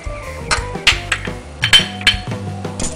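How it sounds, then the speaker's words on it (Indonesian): Eggs are whisked with vanilla powder and granulated sugar in a bowl, producing quick, irregular clinks and taps of the utensil against the bowl's side at close range. "Kita kocok sampai halus."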